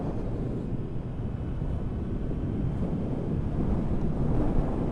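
Steady low wind rush buffets the microphone while riding a motorcycle on the road, a continuous moderate roar that builds slightly toward the end, with no talking.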